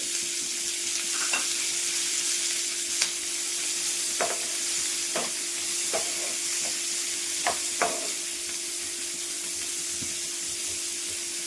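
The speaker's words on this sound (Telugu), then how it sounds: "ఆయిల్ హీట్ అయింది కదా, ఇందులోనే ఒక పెద్ద ఆనియన్ని స్లైసెస్గా కట్ చేసి వేసుకున్నాను." A large sliced onion fries in hot oil in a pan for a royal matar paneer curry, giving a steady close sizzle broken by a few stirring scrapes and taps, with no talking.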